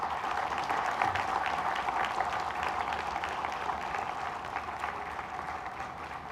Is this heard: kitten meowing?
no